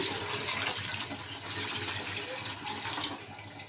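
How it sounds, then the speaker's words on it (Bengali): Water pouring steadily into a cooking pot, a continuous rushing splash from start to finish, with no talking. "পানি দিয়ে দিলাম"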